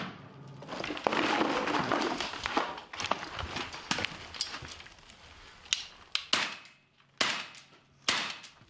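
Sharp gunshots crack out from frontline positions in Donbas near Mariupol at irregular intervals, some sounding close and loud, others more distant, separated by short stretches of quieter background noise.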